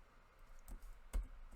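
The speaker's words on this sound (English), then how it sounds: "if you click on that on your keyboard, it makes it" Two or three soft, sparse clicks of computer keyboard keys, faint and close in a quiet room, with no voices.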